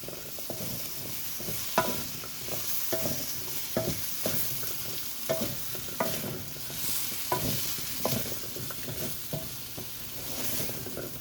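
Zucchini and other vegetables for a vegan curry sizzle in a pan while a spoon stirs them in regular scraping strokes every second or so, close up over a constant frying hiss, with no one talking.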